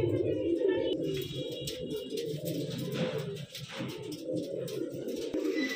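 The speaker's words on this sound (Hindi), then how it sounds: "एक कबूतरी ये है जी, प्योर डब्बी हरी दबाजन कबूतरी है प्योर में।" Purebred pigeons cooing steadily at a sale in Delhi, low soft coos layered over one another close by, with people talking in the background.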